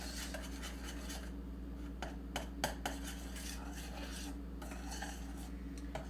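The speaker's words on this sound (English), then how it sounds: "And I stir this in so it lightens up the color and gives it some more thickness" A utensil clinks and scrapes against a bowl while stirring a berry poffin mixture of razz and cheri berries, soft steady rubbing broken by a few sharper taps, close and quiet over a low hum.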